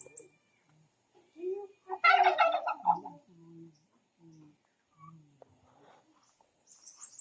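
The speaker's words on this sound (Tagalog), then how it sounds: "Oh, may manok." A chicken on a rural provincial property clucks and calls in a few short bursts, one louder squawking flurry in the middle, amid quiet outdoor surroundings.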